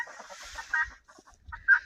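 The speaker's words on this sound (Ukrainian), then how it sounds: "Знайшлись кури, Рембо до них прийшов." Chickens cluck close by a woodpile in a frosty village in the evening, in short, bright bursts, with a couple of louder squawks standing out against otherwise quiet surroundings.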